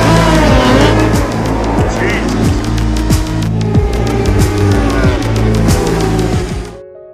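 A motorcycle race in full swing, engines droning loud and continuous with repeated sharp passes and revs, holding steady until the sound cuts off near the end.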